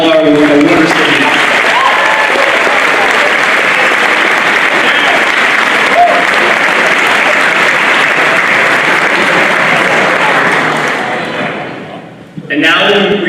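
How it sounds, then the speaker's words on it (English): Loud, steady applause from a class night audience for 2021 award recipients, continuing evenly before fading out near the end, followed by a brief thump. "Let's give a round of applause to all of our award recipients."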